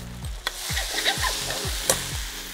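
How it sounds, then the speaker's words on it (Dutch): Garnishes for a mushroom and truffle risotto fry in butter in a small pan, a steady loud sizzle broken by repeated stirring scrapes and clinks of a utensil against the pan, close up with no talk. "En dan gaan we de garnituurtjes aanbakken voor in de risotto te doen."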